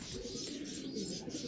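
A pigeon at a fancy and racing pigeon setup in Peshawar gives soft, low repeated coos, faint and close, with a few higher bird chirps mixed in.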